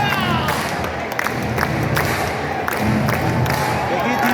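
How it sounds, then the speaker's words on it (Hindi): Stadium crowd at a New Zealand versus Australia cricket match at Sky Stadium in Wellington, clapping and cheering as a dense, continuous roar with rhythmic claps, loud and enveloping. "देखिए केगा लोग सारा लोग ताली बजा रहा बा"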